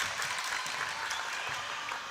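Crowd at an EDF Euros 2023 match cheering and clapping steadily, a dense, continuous wash of applause filling the whole moment without any break.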